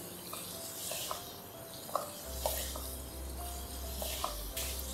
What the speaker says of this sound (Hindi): हल्के हल्के हाथ से मिक्स करेंगे।